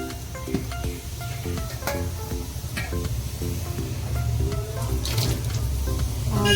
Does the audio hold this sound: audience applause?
no